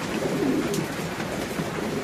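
Domestic pigeons coo softly in low, throaty murmurs against a steady background hiss, fairly faint and unhurried.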